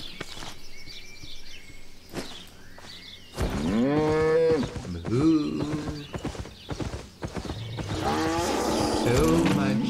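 Cattle moo repeatedly in the video game Albion Online, several loud drawn-out lowing calls overlapping one another, with clopping hoof sounds and some talk mixed in.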